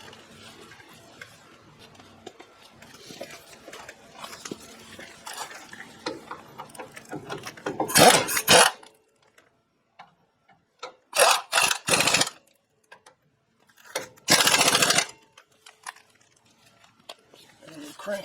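Brake caliper bolts coated with blue threadlocker being cranked tight with a wrench, heard as three loud bursts of ratcheting clicks separated by quiet pauses, with talk earlier on.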